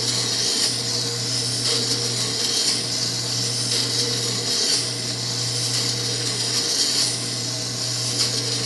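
Chisel steadily ground on a Tormek grinder wheel, a continuous near whirring hiss with a steady motor hum beneath, broken by slight shifts as the blade is moved across the stone.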